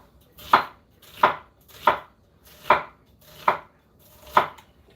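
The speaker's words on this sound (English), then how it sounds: "This half, I'm going to actually just kind of cut across because I want to have slivers of onions to go for the tacos." A knife slices across an onion half into slivers for tacos, six crisp chops landing on a board at a steady, even rhythm, close and clear with no talking.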